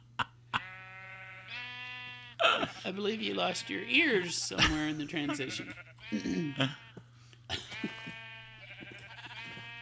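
Sheep in Minecraft bleat several times, their wavering calls mixing with someone talking and laughing over a constant low hum.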